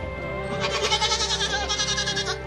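Several goats bleat in a quick, wavering chorus, fairly close and loud over a low background hum.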